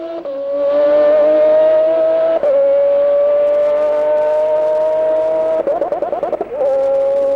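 Toyota GT-One 1998 race car with a 6-litre 60-degree V12 of about 600 hp, revving loud and close in a steady high-pitched howl that stutters with rapid rev-limiter cuts near the end.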